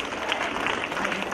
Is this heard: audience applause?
yes